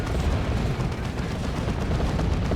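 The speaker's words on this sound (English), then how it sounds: "These Havocs getting shot to pieces by Vengeance rounds here." Continuous, dense gunfire from Vengeance rounds in Dawn of War 2, Space Marines shooting at Chaos Havocs in a relentless, loud barrage with booming impacts throughout.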